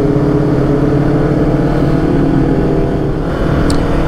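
A loud motorbike engine drones steadily and close by, a thick continuous roar with no pauses and no voices over it.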